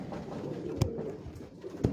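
Pigeons on a Lahore rooftop loft give soft low coos, with two fuller calls standing out against a murmur of faint background birds, heard alone without talk.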